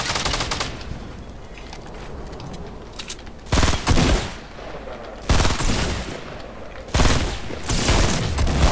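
Fortnite gunfire from a hunting rifle and pistol, with rapid crackling shots throughout and several louder, sharper bursts standing out at intervals, all close and punchy with no talking.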